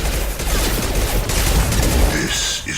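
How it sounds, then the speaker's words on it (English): Rapid gunfire from a high-impact shot in Mass Effect 2, a dense burst of sharp blasts and booms rolling continuously over a couple of seconds, loud and close, with game effects and a faint voice in the mix. "Firing a high-impact shot."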